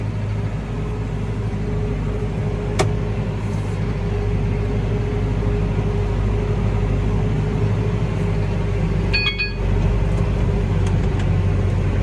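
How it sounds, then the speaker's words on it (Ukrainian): Tractor engines run steadily while sowing soybeans in a field, a constant low rumble and hum that stays even throughout, with a brief click partway through. "все, мотори запустилися"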